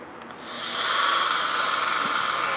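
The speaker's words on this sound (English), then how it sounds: "This is just real rough sanding right now, just trying to get all this nasty stuff out of here." A power sanding pad grinding roughly across aluminum, starting quietly and swelling into a steady, loud abrasive hiss that holds to the end with no talk.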